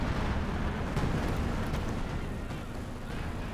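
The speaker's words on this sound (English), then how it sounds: "Just the heavens are basically bursting apart there with munitions." Artillery and rocket explosions in a Company of Heroes 2 battle, a dense continuous rumble of distant blasts and bursts without pause, low and heavy throughout.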